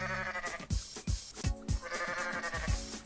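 Goat bleats from a video game in which the player controls a goat, a series of short wavering cries repeating every half second or so, fairly close and clear, with no talking over them.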